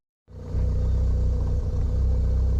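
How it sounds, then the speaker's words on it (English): A Toyota KP61 with a turbocharged 4AGE engine starts up and settles into a loud, steady rumbling idle close by, with a slight rise in revs and no talk. "I'm idling here and then giving it a few revs"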